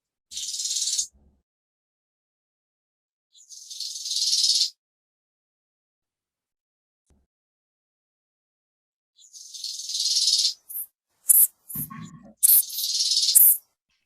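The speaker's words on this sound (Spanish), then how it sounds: "Por acá dicen que una culebra cascabel, cascabel de serpiente." A rattlesnake shakes its rattle in several separate bursts of dry, hissing buzz, each about a second long and separated by silence, with a few short clicks among the later ones.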